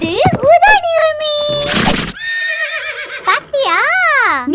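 A cartoon horse in a children's colour-learning rhyme whinnies loudly several times, with sharp rising and falling neighs, mixed with sung vocals and a brief burst of noise between calls.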